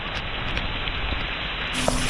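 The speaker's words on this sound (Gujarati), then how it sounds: "તેવા સમયે અનરાધાર વરસાદ પડી રહ્યો છે" Heavy rain falls steadily in Mendarda, Gujarat, a dense, even hiss of downpour on surfaces, close and continuous with a slight brightening near the end.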